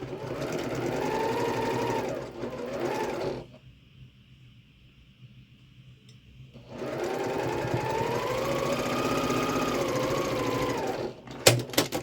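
A sewing machine stitches quilt block pieces in two steady, close bursts of rapid whirring separated by a quiet pause, with a few clicks at the end.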